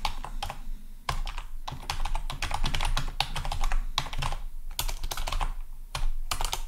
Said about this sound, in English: Can't type.